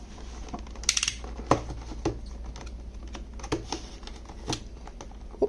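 A Pop Mart SkullPanda Addams Family USB to Type-C cable package is cut open, giving scattered close crinkles, snips and small plastic clicks at an uneven pace, with no talking.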